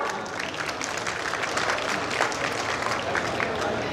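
Steady, dense applause from a large crowd at a chief minister's public rally in Kanpur, loud and sustained throughout without a break.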